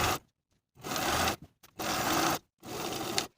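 A sewing machine edge stitches along the inner raw edge of a pant leg hem, running in three bursts of steady mechanical whirring separated by brief silent pauses, close and fairly quiet.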